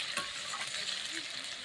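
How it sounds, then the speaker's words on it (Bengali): Tomatoes fry in a pan over a wood fire with cumin and bay leaf, giving a soft steady sizzle with light stirring scrapes, fairly faint. "টমেটোটা একটু ভাজা হবে"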